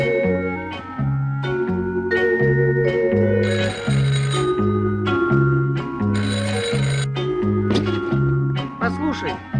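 Telephone ringing in a 1975 Soviet animated film, a repeating ring pattern in regular bursts that runs throughout under a steady melodic music bed.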